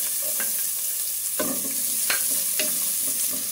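Onions sautéing in a hot pan for tokwa't baboy, a loud, even sizzle close by, punctuated by a few sharp utensil stirs, no speech.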